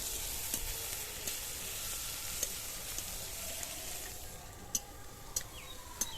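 Grated ginger and garlic fry in a pan with a soft, even hiss throughout, joined by a few faint clicks and light taps of stirring.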